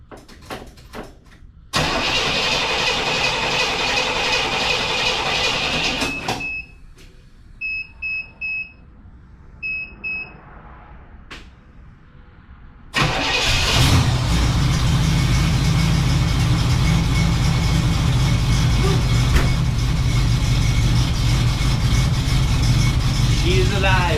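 An old car engine cranks and coughs, sputtering with a few beeps between tries, then catches and roars into a loud, rough, steady idle.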